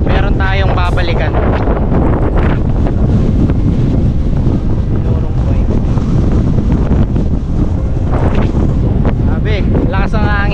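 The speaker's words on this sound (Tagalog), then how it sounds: "masyadong malakas ang hangin" Strong wind roars and buffets the microphone continuously on an island coast in Catanduanes, with waves in the background and voices breaking through now and then.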